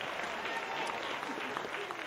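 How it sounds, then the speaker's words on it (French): An audience applauding at a local talent show in Lac-Saint-Jean, a dense, steady clapping that continues through the whole short moment. "Alors, on l'applaudit, mesdames et messieurs."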